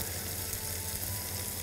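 Onion sizzles steadily in butter and a little oil in a pan, a continuous close frying hiss with no pauses.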